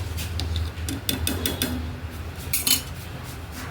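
Rice in a cooking pot being stirred, with a few metallic scrapes and clinks of a spoon against the pot over a low steady hum, close and brief.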